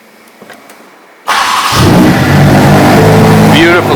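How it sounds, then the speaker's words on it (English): A 2020 Ferrari Roma engine starts up after a quiet moment, with a sudden loud crank and catch flaring into a revving roar that settles into a strong, close, sustained engine note. "So we'll start her up."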